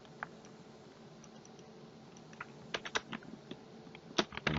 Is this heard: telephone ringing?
no